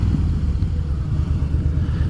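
Harley-Davidson Fat Boy motorcycle engine idling at about 1,000 RPM, a steady low rumbling throb that holds even and close throughout with no revving.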